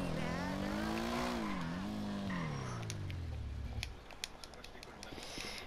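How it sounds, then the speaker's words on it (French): A motorcycle in the video game GTA 5 revs loudly, its engine tone climbing and dipping for a few seconds before dropping away into a noisy, rumbling background with faint clicks. "je vous montre la nouvelle moto"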